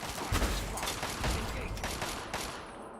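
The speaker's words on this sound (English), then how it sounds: "I feel like this artillery isn't meant to be firing." Artillery firing in a Fallout video game: a steady series of thudding booms and crackling blasts repeating at uneven intervals, fairly distant and muffled, continuing throughout.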